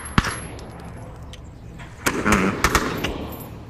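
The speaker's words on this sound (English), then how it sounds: "Where are they shooting from?" Gunfire in the VR shooter Onward: a sharp single shot near the start, then a burst of several cracking shots with echoing tails, moderately loud over a low ambient rumble.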